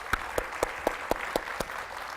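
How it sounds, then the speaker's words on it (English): An audience applauds: a steady run of evenly spaced, distinct claps over a soft crowd wash, moderately loud and sounding like a small, rhythmic group of clappers. "let's give them a big round of applause"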